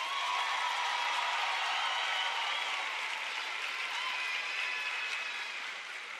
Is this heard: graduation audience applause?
yes